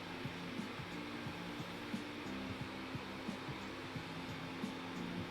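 A handheld dryer blows a steady, even rush of air over raw chicken skin, a constant hum with faint rhythmic fluctuations, close by and with no talking.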